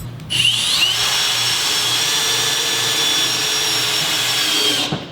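A power drill drives a screw into wood on a work table, one loud continuous whine that holds steady for about four and a half seconds and then stops, with no talking.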